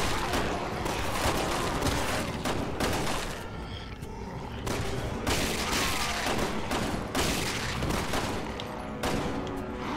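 Rapid gunfire from a Resident Evil 6 game session fills the whole stretch, dense bursts of shots and booms that stay loud and continuous with little pause.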